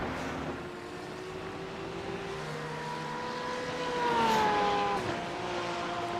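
GT3 race cars in a racing video game roar down the front straight, a steady layered engine drone with one rising, higher-pitched pass swelling briefly before fading, no talk over it.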